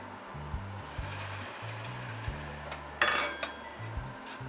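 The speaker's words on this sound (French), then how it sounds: "On va maintenant ajouter la pulpe de tomate." Tomato pulp is stirred into browning onions in a frying pan for homemade pizza sauce, with a few metal utensil clinks and a louder clatter midway over soft background music.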